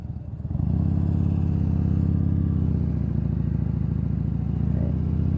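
Motorcycle engine running steadily and loud at close range throughout a short ride, with a low, even drone that starts just under a second in and holds with no talking.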